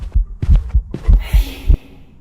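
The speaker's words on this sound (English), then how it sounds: "heartbeat seemed really loud for a second." A loud heartbeat from the Phasmophobia ghost-hunting game thumps close and heavy in a quick run of about seven beats, then fades out under a hissy tail.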